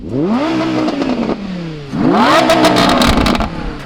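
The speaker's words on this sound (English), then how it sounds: "you really can't beat that exhaust note, huh?" An Audi R8 V10 Plus supercar revs its V10 hard, the loud exhaust note rising through two sweeping accelerations with a brief lift between and crackling at the top, heard up close without talk.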